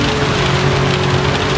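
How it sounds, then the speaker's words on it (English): Heavy rain pounding steadily in the racing game GT7 at the Nürburgring GP, a loud, dense hiss with a faint engine hum running beneath it. "Rain still pounding down"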